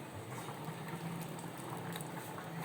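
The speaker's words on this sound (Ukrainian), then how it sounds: "Давайте зазирнемо в котел та подивимося, як кипить отварка" Steady bubbling and churning of beer wort at a rolling boil in a kettle, a continuous low roil with faint pops, no voices.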